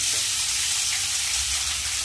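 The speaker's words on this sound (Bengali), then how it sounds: "কড়াইতে তেল দিয়ে দিয়েছি, এবার দিয়ে দেবো সিদ্ধ করে রাখা আলু" Boiled potatoes sizzle in hot oil in a wok, a dense, steady frying hiss heard close up with a faint low rumble beneath it.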